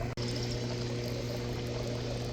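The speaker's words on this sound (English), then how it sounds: "so I have a stream coming back out now" A stream of water pours steadily out of a solar pool heater's return, a continuous close splashing rush after a brief dip at the start, with no talking.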